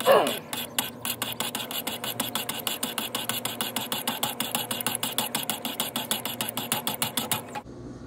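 A knife drawn against 200-grit stones on a Wicked Edge Pro sharpener, a rapid, even series of raspy strokes repeating for several seconds, close and clear, stopping abruptly at the end.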